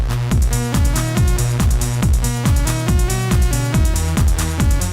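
A remix of the stadium techno anthem, playing loud and continuous with a pounding four-on-the-floor kick, driving bassline and bright synth stabs.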